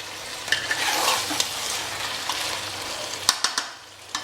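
Masala for mutton do pyaza sizzles and fries in a pan while being stirred, with a steady crackling hiss and a few sharp utensil scrapes near the end, close up with no talk.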